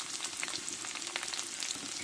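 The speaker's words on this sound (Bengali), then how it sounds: "পেঁয়াজটা ভালো করে ভেজে নিব।" Onions sizzle steadily in hot oil in a pan alongside fried chili and a bay leaf, a dense, even crackle that runs close and unbroken throughout.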